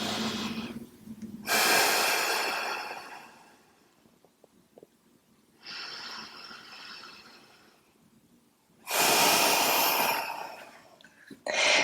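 Deep, slow yoga breathing during a morning sequence: three long, loud, airy breaths close to the mic, separated by quiet pauses, with no words spoken.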